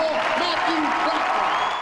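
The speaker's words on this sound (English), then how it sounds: "it was Bradford's turn to hear the roar of Rupp Arena firsthand" Basketball crowd at Rupp Arena roaring and applauding, a dense sustained wash of cheering and clapping, loud and full, with voices mixed into the noise.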